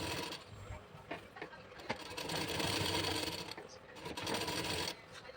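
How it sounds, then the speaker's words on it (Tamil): A sewing machine stitches a panel of old saree fabric for a maxi dress, whirring in short bursts that start and stop, heard close and fairly quiet with a voice speaking faintly at times. "ஒரு பார்ட்டு மட்டும்தான் இப்போ நம்ம ஸ்டிச் பண்ணிகிட்ருக்கோம்."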